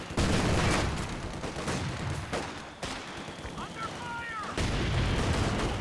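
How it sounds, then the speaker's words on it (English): Mortar and artillery fire in Company of Heroes 2 during a 4v4 match: several heavy booming impacts and blasts land in succession amid battle noise, with a commentator talking over the fighting. "A lot of mortars."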